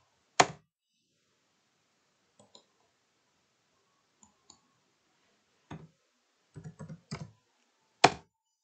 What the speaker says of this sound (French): taper sur votre clavier les deux lettres RE